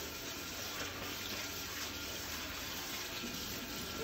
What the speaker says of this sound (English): I'm going to rinse this off at my sink too, because a little extra water isn't gonna hurt it.